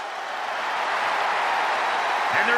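A video game arena crowd in WWE 2K25 cheers and roars in a broad, steady wash of noise that swells slightly toward the end, with no clear speech over it.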